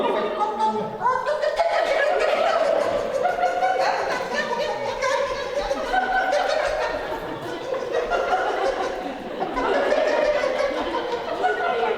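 A group of people at a laughter yoga workshop imitate a rooster with voices, overlapping strained calls and cackling laughter going on continuously and fairly loud.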